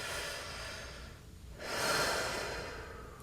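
Deep, slow breathing close to the ear: a long inhale-exhale cycle, a brief quiet pause, then a fuller, louder breath swelling and fading, with no talking.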